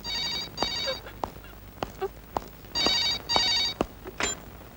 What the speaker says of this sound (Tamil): பாத்தியா, மணி அடிக்குது.